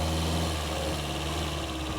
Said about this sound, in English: captured some engine sounds close to the source